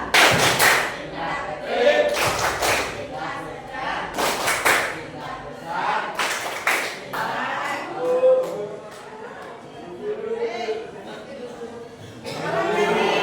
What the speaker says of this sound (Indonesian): Tepuk cinta. Cinta kecil, cinta sedang, cinta besar, cinta kamu.